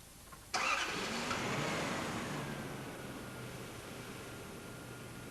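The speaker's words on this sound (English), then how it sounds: "And the idling speed is also back to normal." A Toyota car engine with TCCS electronic control starts with a sharp catch, then settles into a steady, even idle after an adjustment, heard close and alone.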